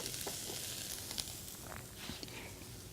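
Zucchini soup ingredients cooking on medium-high heat in a pan, a steady close hiss of sizzling with faint scattered crackles, alone without talk.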